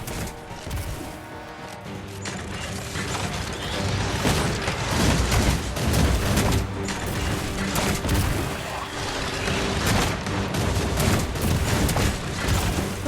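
Rapid gunfire pours at a monster's legs in the video game Destiny Rising, a dense, loud barrage of shots and booming impacts that runs without pause for the whole stretch.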